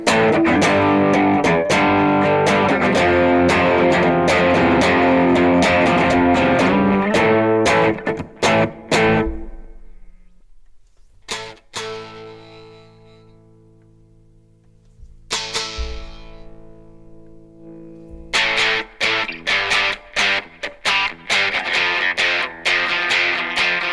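Electric guitar played through a Teenage Engineering EP-133 KO II sampler used as an effects pedal, giving a loud, distorted, effect-laden tone with strummed chords, a quieter stretch of sparse ringing notes midway, then renewed rhythmic strumming.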